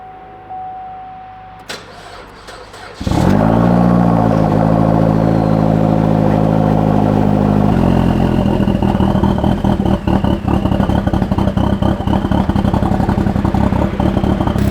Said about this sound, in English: You guys hear how like the idle changes?